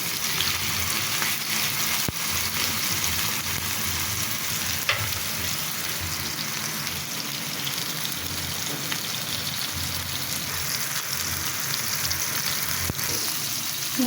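Chicken pieces for tikka sizzle in oil over high heat, a constant, fairly loud crackling hiss with occasional sharp pops and ticks throughout, heard alone without talk.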